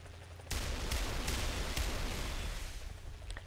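Rockets fire from an attack helicopter in a combat video game, a sudden loud burst opening a sustained rushing roar with several sharp cracks layered through it, staying dense and steady to the end.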